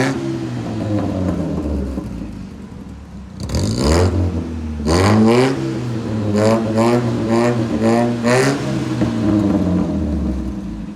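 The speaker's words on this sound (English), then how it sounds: "For sure she can hear a sound of a car already." A new car's engine revs repeatedly up close, with a deep idle rumble broken by one long surge and then a series of short, sharp throttle blips that rise and fall loudly.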